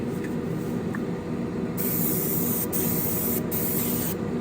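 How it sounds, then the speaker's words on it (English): Lacquer paint hisses from a spray gun onto a Ferrari SF90 Spider scale model in a steady close-up burst lasting a few seconds, briefly interrupted twice, over a low room hum with no talk. "doing a nice wet coat with this lacquer is just the way this paint I have found over the years of using it likes to be sprayed"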